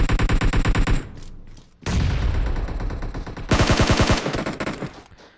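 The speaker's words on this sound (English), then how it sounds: "Elementrix Jin will get those Scar L shots on him through that gap" Scar-L assault rifle fire in a PUBG Mobile tournament match: rapid automatic bursts, loud and close, in several strings separated by short pauses.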